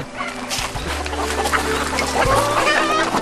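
Chickens clucking inside a coop with an apple tree growing in it, in the Gaya Mountain countryside of Korea; a steady stream of clucks and fowl calls, fairly close, over low background rumble.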